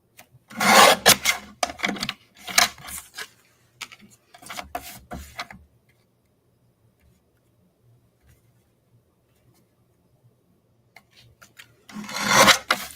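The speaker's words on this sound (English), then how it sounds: "So I'm just going to trim a little bit off the bottom because there's a little bit of the other color on it." A paper card strip is trimmed, heard as several short rasping scrapes in quick bursts, close and clear, then a long quiet pause before one more rasping pass at the end.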